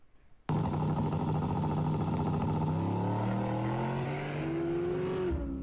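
Street race cars at a legal No Limit racing event in Eagle Pass, Texas, roar to life after a brief quiet, one engine revving hard and climbing in pitch as it accelerates, loud and close, then cutting off near the end.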